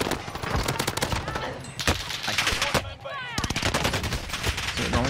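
Gunfire in the Vanguard Warzone video game on Rebirth Island, likely MP40 fire: rapid bursts of shots come in quick clusters over a busy mix, with a player talking over the shooting throughout.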